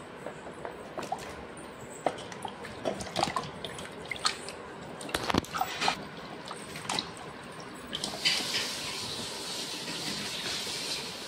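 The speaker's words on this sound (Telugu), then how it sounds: "ఈ క్యారెట్ని నీళ్ళల్లో వేసుకొని నీట్గా కడుక్కోవాలి" Carrots being washed in water, with scattered close splashes, drips and clinks over a quiet background, ending in a longer steady rush of running or poured water.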